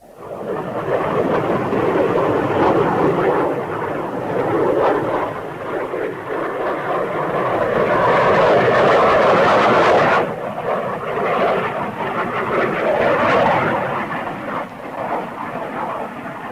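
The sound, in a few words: jet fighter planes in 1952 film Invasion U.S.A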